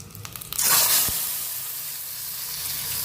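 A loud burst of sizzling as sesame seeds, garlic and dried red chillies drop into hot oil for tempering, settling into a steady crackling hiss that continues to the end.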